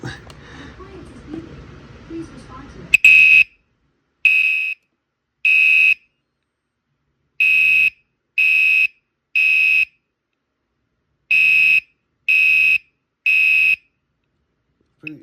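Gentex Commander 5 LED horn/strobe alarm blaring in loud, evenly spaced horn blasts, a group of three, then two groups of three, after a short stretch of background noise.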